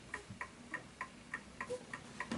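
A Smiths Enfield oak pendulum mantel clock ticks in a steady, even rhythm, about eight soft, close ticks with faint room hiss behind them.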